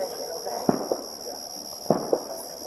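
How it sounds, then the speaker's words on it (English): Fireworks go off outdoors during a police encounter at a home, heard as two pairs of sharp pops well apart, moderately loud over steady background hum with faint talk. "It's funny how you hear all that fireworks."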